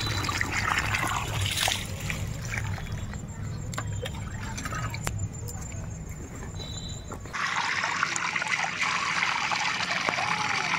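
Water mixed with OS decomposer trickles and splashes steadily onto the soil at the base of vegetable plants in an organic garden, a continuous close pouring stream that grows brighter and louder near the end.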